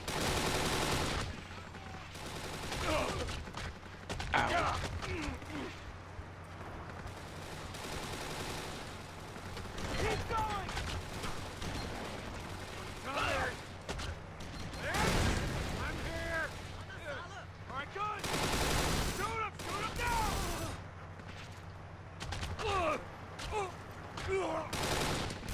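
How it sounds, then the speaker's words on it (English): Continuous machine gun fire and bursts of gunshots and explosions from the video game Kane & Lynch 2, a dense, loud battle mix with voices talking over it throughout. "Take out those machine gunners."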